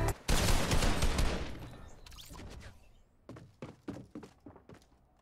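A loud burst of gunfire in the video game Fortnite erupts, then trails into a series of quieter thuds and shots.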